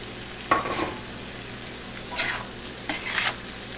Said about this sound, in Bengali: দিয়ে এবার চিড়েগুলো ঢেলে দেব